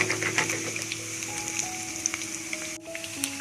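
Chicken kebabs sizzle and fry steadily in a pan, a close, continuous crackling hiss with no voices.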